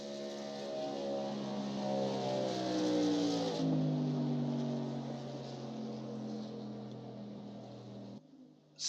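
A race truck in iRacing at Texas Motor Speedway howls down the back straight under steady throttle, its harmonic engine note holding strong and loud for several seconds, then dipping briefly before cutting off abruptly near the end.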